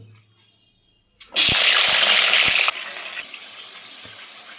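Chicken pieces dropped into hot oil burst into a loud, hissing sizzle that holds steady for about a second and a half, then settles into a quieter, continuous crackle with a few soft knocks.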